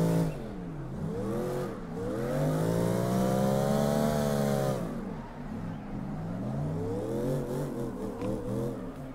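A C8 Corvette drifting in the PC game CarX Drift Racing revs hard, its engine tone swooping up and down through repeated throttle blips before settling into a rougher, lower drone.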